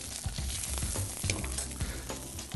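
A fish fillet sizzles in hot oil in a pan just after being flipped, a steady close frying hiss with light crackles and low pan rumbles throughout, no talking.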